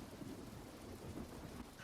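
Pouring rain ambience with low thunder rumbling underneath, a faint, steady wash of rainfall in a fantasy tabletop game session, with no talking.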